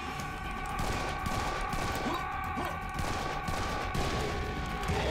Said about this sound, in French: on va le tuer avec le pistolet